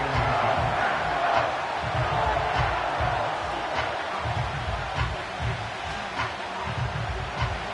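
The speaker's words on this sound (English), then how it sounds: "This crowd, they're trying to force a false start. What noise before 3rd and inches." A football stadium crowd roars loudly and steadily as fans try to force a false start before a third-and-inches play, with a broad wash of noise and scattered cheers and yells.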